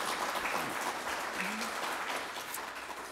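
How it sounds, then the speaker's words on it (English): An audience applauds during a college's annual State of the College address, a dense, continuous wash of many hands clapping that sounds distant and faint in a large hall and tapers slightly toward the end. "You can clap."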